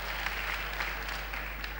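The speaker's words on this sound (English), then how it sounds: "we will hold on with the applause until the end of the first cycle" Audience applause at a presidential debate in Tamale, a dense, even wash of clapping throughout with a low steady hum underneath.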